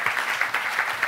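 An audience at a literary event in a Norwegian venue claps in a brief, dense patter of hands, fairly close and with no voices.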